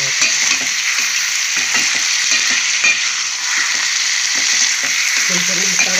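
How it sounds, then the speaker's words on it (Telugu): Bitter gourd pieces fry in hot oil with salt, a steady loud sizzle running throughout with occasional soft scrapes of stirring. "ముక్కలన్నీ ఫ్రై అవుతాయి."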